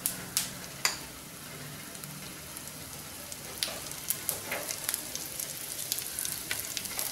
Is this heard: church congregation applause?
no